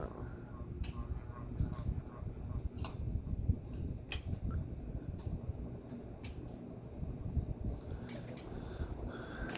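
Steady broadband whooshing of ceiling fans running on high in a metal barn, with occasional faint clicks and ticks over the constant airflow.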